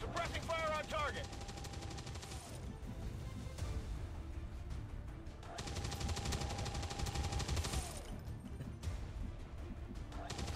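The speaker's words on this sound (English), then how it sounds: "Suppressing fire on target." Machine gun suppressing fire in the video game XCOM 2, with dense, loud bursts of rapid automatic shots in two long volleys, separated by a brief lull and layered with game effects.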